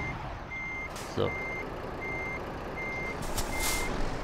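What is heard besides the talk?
truck reversing beeps in reverse gear, Euro Truck Simulator 2 video game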